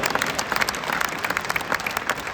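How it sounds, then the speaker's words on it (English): A crowd applauds steadily at a badminton tournament opening ceremony, dense overlapping claps filling the whole moment at moderate loudness with no voices standing out. "Please give a round of applause"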